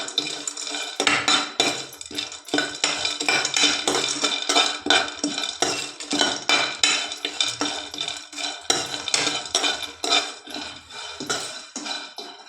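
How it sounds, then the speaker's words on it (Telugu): Peanuts roast in a pan on the stove for a village-style drumstick curry, giving busy, continuous metallic scraping and stirring clatter that rises and falls close by, with no talk. "ఒక స్పూన్ శనక్కాయ విత్తనాలు, ఇవన్నీ అయితే మంచిగా ఏగే వరకు వేయించుకోవాలన్నమాట"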